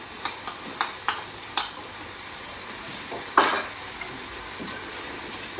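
Mutton karahi masala cooks in a pan with a steady low sizzle, punctuated early by a rapid series of sharp spoon taps and clinks against the metal, then a single louder scrape, no talk.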